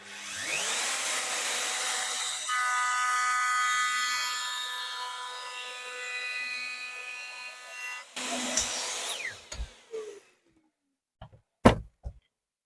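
A diamond router bit milling, a loud sustained whine with a steady tone that runs for about eight seconds, then cuts off, followed by a few scattered knocks and clunks.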